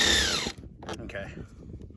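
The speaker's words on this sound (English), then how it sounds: "I'm gonna have to use a drill bit to get them through there" A power drill drives a bit through the plastic of a boat console with a loud, high whine that cuts off after half a second, followed by clattering handling noises and brief mechanical scraping.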